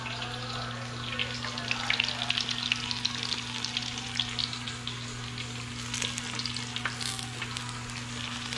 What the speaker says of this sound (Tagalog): Ayan, ngayon natin yung bawang.